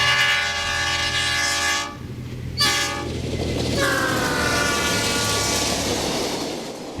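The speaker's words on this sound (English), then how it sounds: "The Milwaukee-bound Abe Lincoln arrives with a GM&O E7A." An Amtrak Abe Lincoln train led by a GM&O E7A locomotive arrives, its horn sounding in long loud blasts over a steady rumble and clatter of passing cars, with a brief break before the horn returns and the train rolls on.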